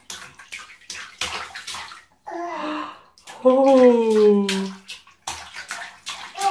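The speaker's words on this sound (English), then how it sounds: "This is his first time splashing and playing in water." A 14-month-old child splashing and playing in bathtub water at his first bath, close and intermittent sloshes broken by a child's vocal sounds and a brief adult exclamation.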